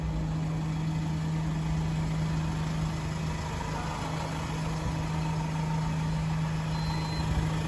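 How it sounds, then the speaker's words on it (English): The cab buzzer of a 2024 Iveco Daily 7.2T recovery truck signals that the PTO is engaged: a continuous, steady tone sits over the idling diesel engine without a break, with no talking. "Inside wise, you have a buzzer to let you know the PTO is on."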